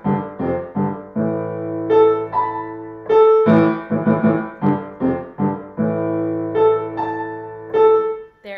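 Piano playing a short rote beginner piece in harmonic fifths and 3/4 time, clear repeated two-note chords in a lilting waltz rhythm, close and alone with no talk.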